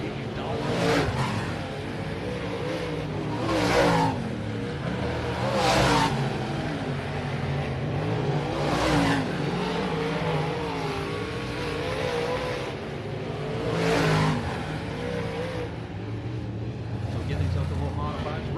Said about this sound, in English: always good to see these open wheel modifieds at any racetrack